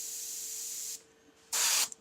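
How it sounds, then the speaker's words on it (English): Paint spray gun hissing in two bursts during freehand skull airbrush work, a steady spray for about a second, a pause, then a shorter louder burst with a brief spit at the end. "The gun's not spraying very nicely"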